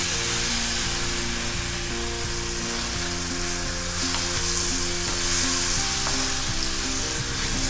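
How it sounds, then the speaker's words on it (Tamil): Ground chana dal sizzles and fries in hot ghee with cashews for gram dal sooji halwa, a steady close crackling hiss with faint stirring scrapes and no talk. "நெய்யில் நல்லா வதக்கிக்கணும்"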